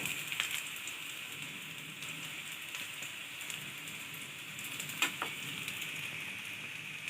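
Veg lollipops fry in a pan over a high flame, a steady close sizzle and crackle running throughout with a few sharper pops near the middle.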